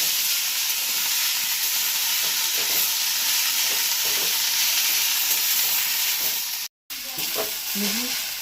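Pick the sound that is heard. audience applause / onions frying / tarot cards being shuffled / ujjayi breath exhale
onions frying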